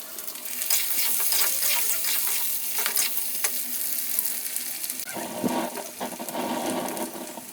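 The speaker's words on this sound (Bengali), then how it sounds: "তো এবার মাছগুলো ভেজে রান্না করে নেব।" Hilsa fish frying in a pan at home, a continuous moderate sizzle with scattered crackles and some watery splashing near the end, no talk.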